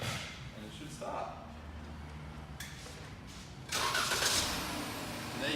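A Jeep Grand Cherokee started by remote start cranks and catches partway through, its engine settling into a steady idle nearby after a stretch of speech.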